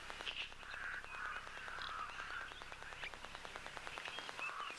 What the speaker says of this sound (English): So just picking up some of those Cape Crows.